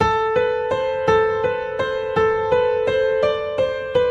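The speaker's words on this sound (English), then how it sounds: "This powerful piano song is actually really easy to learn." Piano plays a repeated single note with a steady pulse of evenly spaced strikes, clear and close, the notes ringing out alone.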